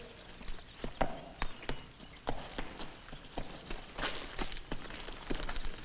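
Horse hooves clip-clop at a walking pace, a steady run of sharp, distinct knocks that are fairly close and clear, with faint background noise and no talk.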